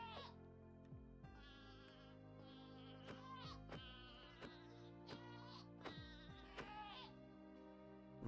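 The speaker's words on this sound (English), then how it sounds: "Goat." A Minecraft goat in the FTB StoneBlock 4 modpack bleats repeatedly, several wavering bleats in quick succession, heard faintly over a quiet sustained game music background.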